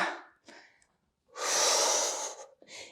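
Heavy, forceful exercise breathing during an intensive Pilates abs workout: a few breathy inhales and exhales, with one long, loud, close exhale in the middle and a shorter breath at the end.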